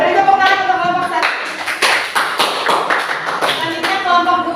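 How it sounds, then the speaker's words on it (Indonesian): A classroom group gives a round of applause for the first group of presenters, a short burst of close hand clapping with uneven, overlapping claps. "Dapat tepuk tangan untuk kelompok 1."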